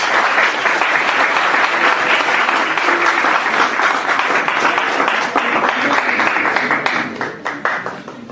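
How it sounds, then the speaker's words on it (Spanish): An audience at a university sociology of law conference applauds to welcome the speakers, dense sustained clapping from many hands that thins and fades toward the end. "recibámoslos con un fuerte aplauso"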